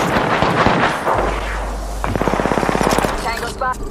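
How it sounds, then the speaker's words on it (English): Gunfire from the Apex Legends battle royale game near an enemy base: a rapid automatic burst of shots rattles out mid-clip beneath a player's narration, with other game sounds around it. "obviously you can hear all the gunshots as we get close to the base"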